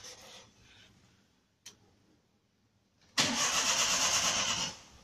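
After a faint hum and a click, a car engine fitted with a hidden anti-theft cut-off switch cranks and fires up with a loud, sudden roar, running steadily for over a second before cutting back.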